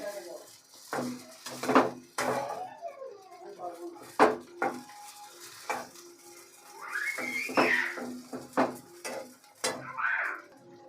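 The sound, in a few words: stirring and frying filling in a pan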